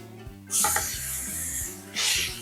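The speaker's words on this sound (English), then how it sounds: "Let it just sit there and sizzle like that." Close sizzling of Canada goose burger patties on a hot griddle, bursts of hiss and a metal scrape, over background music.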